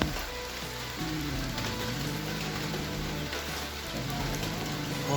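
Steady rain falls over flooded rice paddies outdoors, a dense even hiss of drops spread across the whole stretch with low rumble beneath, no voices.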